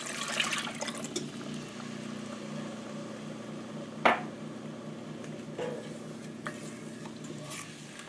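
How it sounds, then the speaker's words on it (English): Milk and heavy cream stirred into cooked flour in a pot for au gratin potatoes, a steady soft swishing with light sizzling and one sharp clink of the utensil against the pot midway. "now we're just going to stir it until it comes to a slight boil so it thickens"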